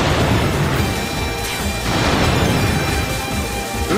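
Cannon firing in Warriors Orochi 4 Ultimate, a loud dense roar of blasts and crashing impacts filling the whole stretch, with no speech.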